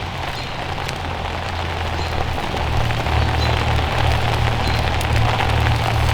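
Steady rain falls outdoors at a wet campsite where a fire is being started with fatwood, a dense continuous hiss of drops on surfaces holding evenly throughout with no voices.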